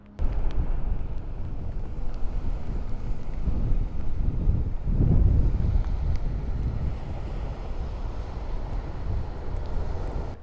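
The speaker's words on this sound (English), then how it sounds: "With this wind and rain, it's pretty easy to get cold" Wind and rain buffet a wet coastline during a solo hike, a steady low roar of gusting wind against the microphone, swelling midway and continuing throughout without speech.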